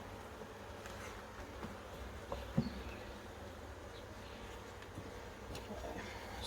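Honey bees, many of them nurse bees, buzz around an open hive box during queen release in South Africa on a cool day, a continuous faint drone with a few brief sharp clicks and no talk.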